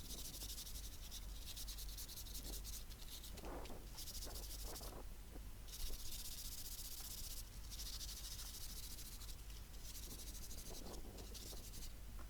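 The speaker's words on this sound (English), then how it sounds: "So I started off just giving them a good sanding." Continuous rasping scrape of sandpaper worked back and forth by hand on metal hanging basket brackets, steady and close, with brief shifts in stroke.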